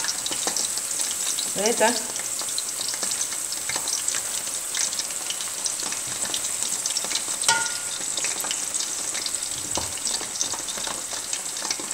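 Lampascioni bulbs fry in hot oil with a continuous crackling sizzle, close by. Brief stirring clinks cut in now and then, and a voice speaks briefly.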